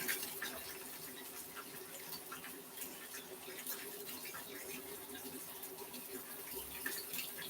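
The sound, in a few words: pouring hot Escovitch liquid over fish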